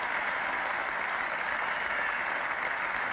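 A cricket crowd at a 1972 England versus Australia Test applauds Greg Chappell reaching his century, a steady, dense wash of clapping and cheering that holds evenly loud throughout with no voices on top.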